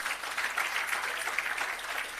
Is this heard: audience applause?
yes